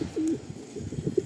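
Madrasi pigeons in a Kolkata loft give soft, close coos, a short sequence of low throaty notes with brief gaps and no talking.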